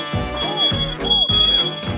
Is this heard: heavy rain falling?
no